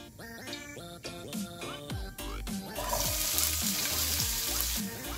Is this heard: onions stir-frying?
yes